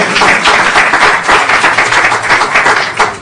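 Steady, loud audience applause fills the room throughout, dense clapping from many hands during a math-magic talk, with no voices over it.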